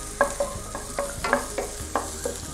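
Finely chopped large onion sautéing in a pan for a beef dish, a close sizzle punctuated by quick, regular scrapes and clinks of a spoon stirring against the metal.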